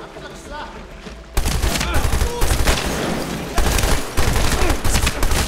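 Rapid gunfire from a weapon in the video game Medal of Honor Warfighter, loud close bursts of automatic shots that cut in abruptly and repeat in dense volleys over a low rumbling background.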